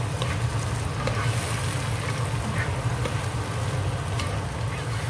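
Small tomatoes frying with onion and garlic in vegetable oil in a pan, a steady close sizzle with low bubbling, continuous and fairly loud with no talk.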